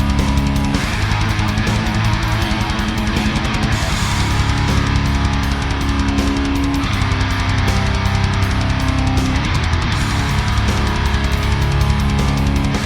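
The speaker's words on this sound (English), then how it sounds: "Are you trying to make your Line 6 Helix sound like this?" Electric guitar played through a Line 6 Helix patch emulating a Boss HM-2 distortion pedal, a dense, saturated chainsaw-like tone sustained loud and continuous throughout, with no talking.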